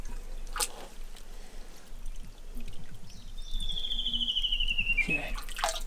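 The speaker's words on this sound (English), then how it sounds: "there's nothing stopping this water from flowing. So it should just flow right out of the pipes down there" Water trickles and pours from garden drainage pipes at a permaculture farm, a steady close splashing flow with a faint high whistle near the end.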